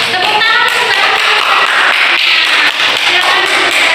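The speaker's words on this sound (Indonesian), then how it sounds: "Tepuk tangan." Loud, dense clapping from a primary school classroom, many hands at once, close and sustained for several seconds with some voices mixed in.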